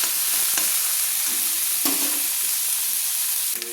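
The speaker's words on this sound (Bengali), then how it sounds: "এইভাবে পেঁয়াজগুলোকে একটু ভেজে নিচ্ছি, একটু হালকা লাল লাল করে আমি ভেজে নিচ্ছি।" Onions frying in a pan give a steady broadband sizzle as they are stirred, broken by a few scraping spoon strokes, close and loud with no speech.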